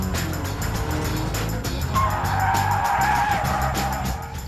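Mazda Miata drifting, with a loud continuous roar of engine and tire skid and a rising squeal of the tires in the middle, sustained throughout.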